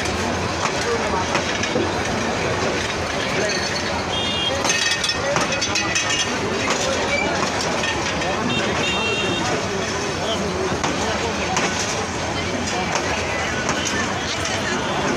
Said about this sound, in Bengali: কিশোরগঞ্জ এক্সপ্রেস মাত্র কিশোরগঞ্জ রেল স্টেশন প্রবেশ করে।